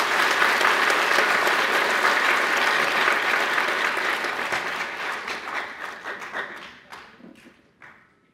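Loud audience clapping fills the hall, steady and dense at first, then thinning and fading into scattered claps before dying out.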